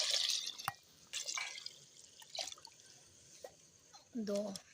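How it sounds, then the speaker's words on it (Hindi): Water splashes and pours from a mug in several short bursts, with drips and trickles between them, close by; a voice speaks briefly near the end. "ये जो मग्गा है ना, ये भर के मैं डालूंगी इसमें पानी के।"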